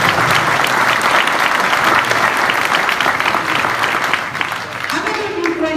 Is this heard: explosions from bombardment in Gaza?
no